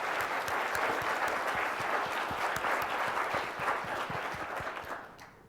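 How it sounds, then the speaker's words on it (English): An audience at a corporate culture talk gives a loud, full round of applause with many hands clapping densely together. The applause tapers off and fades out at the end. "Give yourself a round of applause for taking on this work."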